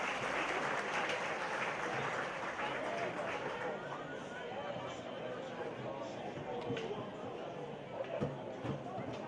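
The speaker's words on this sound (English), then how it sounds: "A round of applause for the 1992 senior champions in Cavan." Crowd applause at a county senior camogie championship final for the 1992 senior champions, dense sustained clapping from many spectators that holds steady and tapers slightly toward the end.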